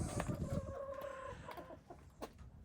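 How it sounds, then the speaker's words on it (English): Chickens clucking and murmuring nearby, a soft rolling chatter with a few sharper clucks, no voices. "Let's go say hello to the chickens."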